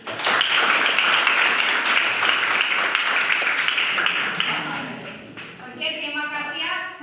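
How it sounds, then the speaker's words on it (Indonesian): Students in a classroom clap together in steady, dense applause lasting several seconds, fading out near the end as a voice begins speaking. "kita beri aplaus dulu karena kalian sudah"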